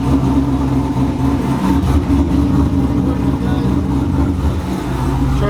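A car engine with an aggressive cam idles loudly and close with a choppy, lopey rumble that swells slightly as if being revved, while a person talks over it.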